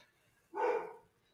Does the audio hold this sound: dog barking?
yes